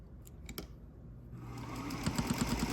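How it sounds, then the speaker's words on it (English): A domestic sewing machine starts up and stitches along a line on a small quilted bookmark, a faint, rapid mechanical chatter that builds after a few clicks and light handling noises. "I'm gonna just stitch along this line."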